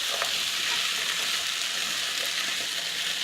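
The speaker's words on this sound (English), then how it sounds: "I'm going to mix that in there with all that greenery." Butternut squash and greens mixed in a skillet, a steady even sizzle of frying with faint stirring scrapes, continuous and moderately close, with no talk.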